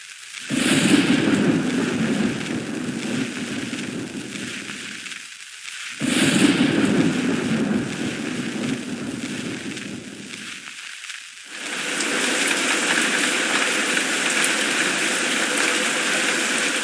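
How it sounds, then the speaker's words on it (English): Thunderstorm with rain in the Nancy Drew video game: two heavy rumbling bursts of thunder over a steady rain wash, each fading out, then a continuous hiss of downpour, loud and close. "a terrible storm began to rage, washing away the sound of my footsteps"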